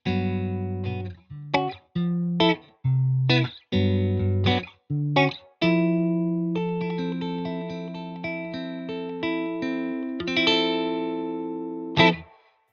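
An electric guitar through a Thorpy FX Deep Oggin pedal into a Benson Amps Monarch reverb amp plays short chopped chords, then lets a sustained chord ring out, washed in reverb and slight grit, loud and alone.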